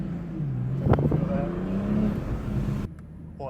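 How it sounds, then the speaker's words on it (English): A 2023 BMW M240i being rebuilt after a wreck, driven with its transmission whining: a steady tonal whine that rises in pitch over a continuous engine and road drone, close and fairly loud, with people talking over it. "It didn't grind, it whined. The transmission whined."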